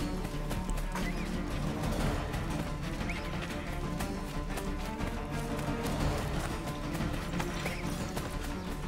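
A horse neighs amid a dense, busy clatter of hooves and game action noise in Assassin's Creed III, all heard at a fairly constant loud level.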